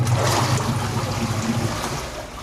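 A Union Air top-load washing machine running and drawing in water gives a steady, close rushing and trickling wash that fades slightly toward the end, with no talking.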